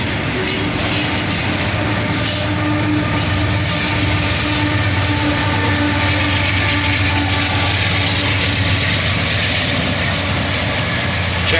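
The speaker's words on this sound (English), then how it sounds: "And here comes the end of the train with the distributed power." Ore train rolling past with two distributed power units at the rear, a Cm44AH rebuild and an ES40DC, only the first running; a steady loud rumble of wheels and cars with faint squeal throughout, no talk.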